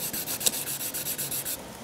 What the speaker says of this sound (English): we're going to remove the 400 sandpaper marks with a bit of 800